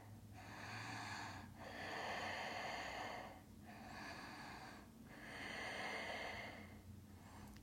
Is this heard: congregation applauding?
no